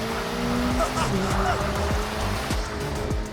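A 2025 Corvette ZR1 drifting, its engine note sweeping up and down in repeated revving surges with faint tire squeal, steady and loud throughout, with a voice talking over it.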